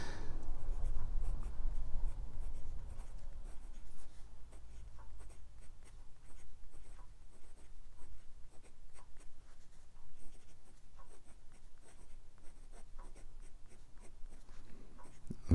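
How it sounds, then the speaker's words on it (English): A Sailor Lecoule Garnet fountain pen with a fine steel nib scratches across a Rhodia paper pad, producing soft, close scratchy strokes in an irregular rhythm throughout, with no talking. "So let's have a look at how this pen writes."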